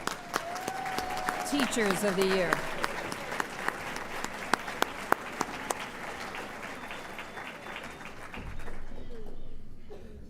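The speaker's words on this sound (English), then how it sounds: "let's applaud all of the elementary" A ceremony audience claps for the elementary Teachers of the Year, sustained applause with sharp individual claps standing out as a speaker's voice carries over it before the clapping fades.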